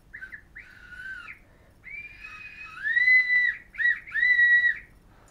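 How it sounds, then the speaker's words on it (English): Several shrill blasts from a survival whistle, short at first then longer and louder, with warbling pitch and quiet pauses between them. "you blow a whistle."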